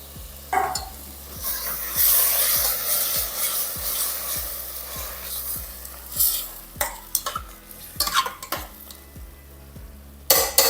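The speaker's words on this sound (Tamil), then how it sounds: "நல்லா வதக்கிக்கலாம் பாருங்கள் தக்காளி நல்லா இந்த அளவுக்கு நல்லா குலைவாக நல்லா வதங்கிடுச்சு" Chopped tomatoes are sautéed in a pan for tomato rice, with a soft sizzle under repeated rhythmic spatula scrapes and taps against the pan, growing louder and more irregular toward the end.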